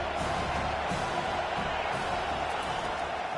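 Steady roar of a college football stadium crowd at a Clemson versus Penn State game, a dense continuous wash of cheering and noise from thousands of fans, loud and unbroken throughout.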